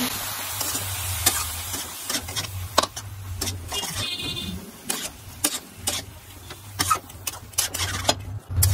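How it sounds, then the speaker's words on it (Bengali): Spiced potato and cabbage are stirred in a hot pan over a gas flame, with repeated loud spatula scrapes and clacks over a constant sizzle and no talking. "ভালো করে মশলা, আলু বাঁধাকপির সাথে মিশিয়ে দেব।"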